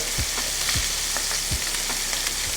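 Scallops sear in butter in a hot pan, giving a steady close sizzle with a few soft low knocks of the pan or utensil scattered through.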